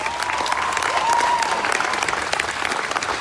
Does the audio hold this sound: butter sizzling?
no